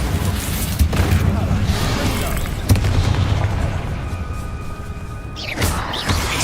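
Spell blasts and booming explosions in Hogwarts Legacy combat, a dense loud rumble with several sharp impacts and crackling bursts, under game sound and shouting.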